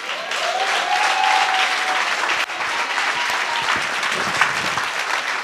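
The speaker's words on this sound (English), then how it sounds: "a massive round of applause for our winner, Sethu from Z Organic Hair Care" Sustained loud applause from a crowd at a business pitching challenge, dense and steady clapping throughout, with faint cheering mixed in.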